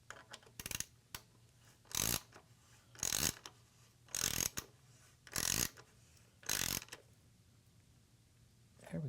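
Ratchet tightening the SC Project exhaust muffler bolts on a Honda CB1000R gives six loud, close bursts of rapid ratcheting, each about half a second long, separated by short pauses.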